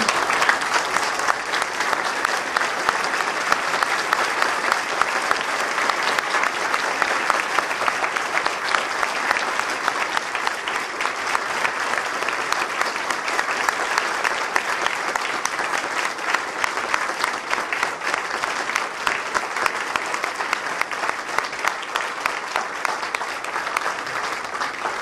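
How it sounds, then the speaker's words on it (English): A standing audience at a tribute evening for a martial arts sensei gives long, dense applause, a loud continuous roar of many hands that holds steady without pause. "give him a round of applause"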